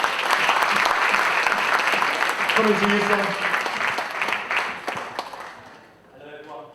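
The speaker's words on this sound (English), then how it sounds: "Give her a round of applause." A live audience at a Pan African talk applauds loudly and steadily, the clapping fading out near the end while a voice speaks briefly over it.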